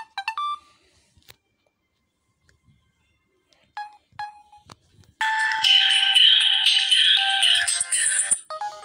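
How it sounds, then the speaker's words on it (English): A Samsung mobile phone sounds its ringtone: a few short beeping tones at first, then a bright, busy electronic melody that plays loud and close for several seconds. "Samsung tone."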